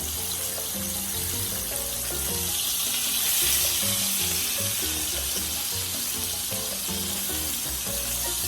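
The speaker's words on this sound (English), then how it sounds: "once they finish frying up" Loud continuous sizzling of pork chops frying in a pan, a steady hiss with faint crackles and occasional clinks, close up with no talking.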